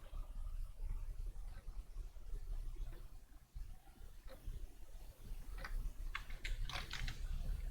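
Computer keyboard typing in quiet, sparse clicks that cluster more densely near the end, over a low background hum.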